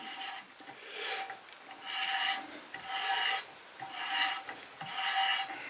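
An adjustable hand reamer cuts metal in slow, repeated rasping strokes, about five scraping passes with short pauses, close and moderately loud.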